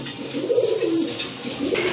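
A pair of racer grizzle pigeons coos in low, rolling murmurs that swell and fade over a couple of seconds, close by with no voices.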